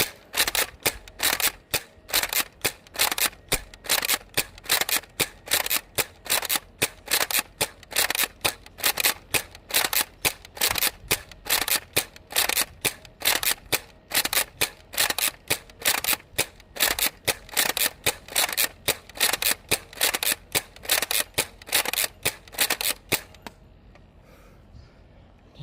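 A toy foam blaster fires in a rapid, steady string of sharp, close clicking shots for over twenty seconds, then stops abruptly into quiet.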